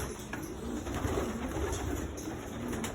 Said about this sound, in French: Là, mes pigeons de marathon, mes futurs pigeons de marathon, pas mal de tardifs.